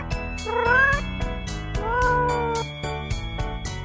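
A cat in a children's cartoon about domestic animals lets out two drawn-out meows, clear and close, over a bouncy rhythmic music track.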